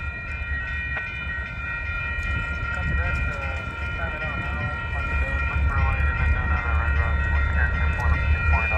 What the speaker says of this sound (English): 4011, Union Pacific is the leading locomotive.